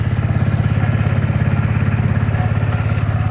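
An old, rattly four-wheeler ATV engine idles up close with a loud, steady low-pitched chugging pulse.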